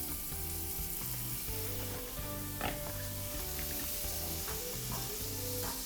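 Butter melting and sizzling over low heat in a pan of toasted black pepper for cacio e pepe, a continuous dense hiss with faint tapping, while a low repeating tonal pattern runs underneath.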